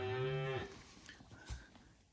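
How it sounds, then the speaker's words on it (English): A milk cow lets out a single close, loud moo that fades into quiet rustling farmyard sounds. "But she's a pretty good old cow."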